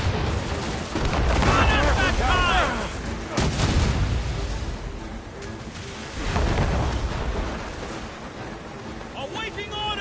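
Naval cannon fire from a sailing warship in Assassin's Creed Rogue, heavy booms rolling out in bursts amid battle noise while crew voices shout orders over the broadsides.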